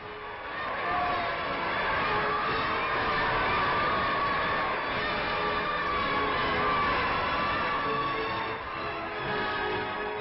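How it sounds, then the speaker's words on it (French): Enthusiastic street crowd in 1949 Algeria cheering during a French presidential visit, a steady dense roar of many voices on an old muffled archival recording with narrow range. "il suit les rues au milieu d'une foule dont l'enthousiasme ne cède ni à l'attente"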